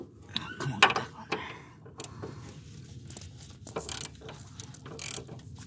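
Ratchet socket wrench clicking on the subframe of a 2003 Honda Accord, with irregular bursts of ratcheting and metal clinks close by over a low background rumble.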